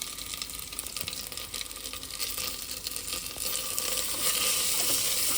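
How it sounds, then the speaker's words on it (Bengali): Meat sizzles and fries in a hot pan while being stirred, a steady dense crackle throughout that grows slightly louder toward the end, close and without talk. "একটুখানি নেড়ে দিই"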